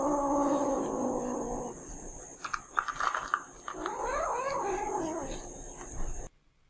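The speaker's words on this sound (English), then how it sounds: "a kitten is defending her food bowl from her siblings by growling" A kitten growls while guarding her food bowl from her siblings, a low rumbling growl followed by rising, wavering yowls, close and fairly quiet, ending abruptly.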